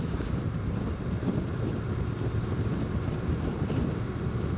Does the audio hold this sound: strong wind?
yes